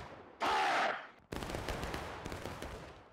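Musket fire in the Civil War game War of Rights, at a log cabin map: a loud, sharp volley crack up front, then a second report and a sustained crackle of distant rifle shots rolling on without talk.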